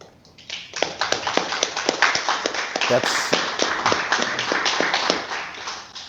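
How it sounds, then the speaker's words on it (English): Loud, close applause from an audience after a speech by DXN founder and CEO Datuk Dr. Lim: many hands clap in a dense, crisp, continuous patter that builds quickly and holds strong throughout. "when our CEO speaks, you'll always hear these clapping hands"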